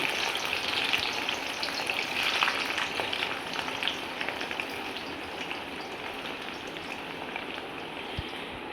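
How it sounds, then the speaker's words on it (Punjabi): Stuffed bitter gourds frying in hot oil in a kadai over medium gas, a continuous bright close sizzle with faint crackles throughout, no talking. "ਹੁਣ ਆਪਾਂ ਕਰੇਲੇ ਪਾਣੇ ਆ ਤੇਲ ਦੇ ਵਿੱਚ"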